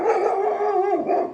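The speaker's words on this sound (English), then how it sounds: "that sounds like a really big dog" A big dog barks outdoors in a short, loud run of deep, howling barks that blur together near the listener, then fades at the end.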